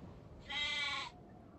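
A single close, loud sheep bleat from the video game Nancy Drew: The Haunting of Castle Malloy, lasting about half a second and standing out against a faint, quiet background.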